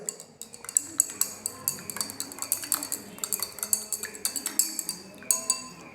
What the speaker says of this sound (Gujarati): પાણી નાખ્યા પછી હું એને ચમચીથી બરાબર હલાવીશ